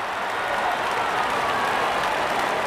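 Steady, dense crowd applause from a stadium in a T10 international cricket video game, Sri Lanka versus West Indies, rising after a bowler takes a wicket; continuous broadband clapping without voices over it.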